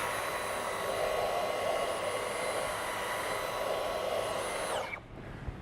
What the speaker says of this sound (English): the hair is driven to the end and shoots off the end and goes up into the vacuum cleaner